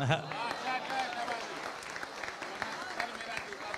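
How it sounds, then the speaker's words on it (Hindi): Enthusiastic audience applause at a Hindi-Urdu kavi sammelan poetry gathering held in an Urdu Academy building, sustained clapping that starts right after a recited couplet and continues steadily, with some voices underneath. "जोरदार तालियां।"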